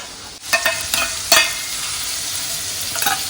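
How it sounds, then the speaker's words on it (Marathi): Onion frying in a pan, a few distinct sizzling bursts and stirring scrapes over a steady background hiss, close and fairly loud with no talking. "आणि यामध्ये टाकायचा आहे कांदा."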